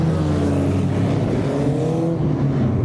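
Clubmans race cars at Silverstone roar past on track in a loud, close pass, engines revving and blending into a rising and falling howl that fades toward the end, with no voices.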